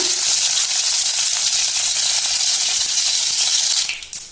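Mustard seeds splutter and crackle in hot oil as a dense, loud, continuous sizzle. It fades slightly in the final moment.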